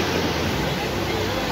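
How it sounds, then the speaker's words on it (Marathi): Rushing river water at Dapodi makes a steady, dense roar of loud broadband noise that continues without a break. "आणि तो पाण्याचा आवाज ऐका बघतो तुम्ही."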